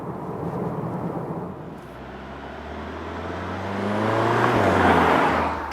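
An Audi SQ2 sporty SUV drives by, its engine and road noise swelling as it nears and climbing in pitch as it accelerates, alone without talk.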